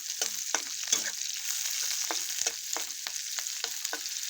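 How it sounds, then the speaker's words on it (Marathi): Onion fries in a spoonful of oil for a mushroom dish, giving a steady close hiss and sizzle broken by regular scraping stirs. "आपण थोडा कांदा 1 चमचा तेल टाकून परतून घेणार आहोत."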